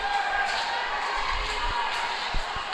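An ice hockey crowd at a men's national gold medal game cheers in a dense, sustained arena roar, with a commentator talking over it and occasional puck and stick knocks.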